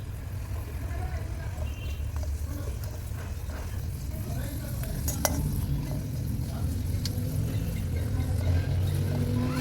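Asafoetida frying in hot oil for a Satara-style red chilli chutney gives a steady, close sizzle with stirring scrapes over a low background rumble, continuing for about ten seconds.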